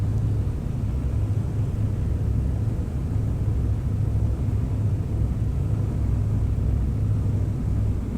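A Piper Aerostar 601P twin-engine aircraft idles after landing in the X-Plane 11 flight simulator, giving a loud, steady low engine rumble and drone that runs unbroken throughout with no talking.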